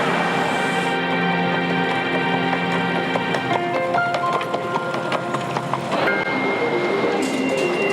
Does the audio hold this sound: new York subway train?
yes